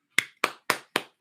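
Five sharp, evenly spaced claps ring out close and clear in a small group celebrating a team member, with nothing else audible.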